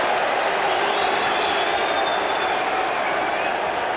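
Football crowd at Elland Road during a Leeds United versus Wigan Athletic FA Cup replay, a steady wash of cheering and applause filling the stadium throughout, with commentary voices under it.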